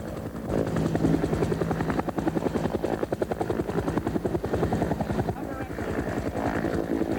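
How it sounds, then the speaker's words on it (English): A firefighting helicopter hovers a few feet off the ground during a logging-area demonstration, its rotor giving a loud, steady rapid chop close by, with a narrator talking over it throughout. "While the pilot holds the chopper steady just a few feet off the ground"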